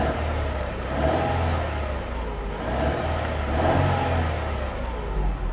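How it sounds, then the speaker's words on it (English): 2019 BMW 430xi Gran Coupe with a four-cylinder engine running at a steady idle, a low, even hum with gentle pulsing, heard at moderate level with no talk over it. "a little four-cylinder actually sounds pretty healthy, guys"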